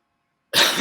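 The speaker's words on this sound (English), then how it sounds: "Sorry, I'm just coughing." Single sharp cough bursting out of silence, close and loud, cut off at the end.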